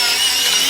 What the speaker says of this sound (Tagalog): Battery operated pepper grounder and salt.